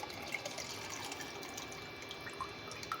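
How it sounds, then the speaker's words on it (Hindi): Tamarind water trickles into cooking kadhi, a faint, steady liquid pour with small drips and no talking. "और इमली का पानी डालेंगे इसमें"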